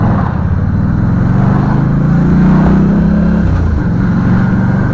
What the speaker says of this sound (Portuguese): Essas motos aí